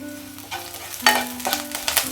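Curry leaves dropped into hot oil for sundal, a chickpea dish, crackle and sizzle in short bursts over a low steady hum, close and fairly loud with no talk.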